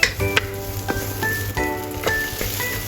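Sugar snap peas stir-fried over high heat in a pan, a steady sizzle punctuated by several sharp clanks and scraping tosses, close and moderately loud with no talking.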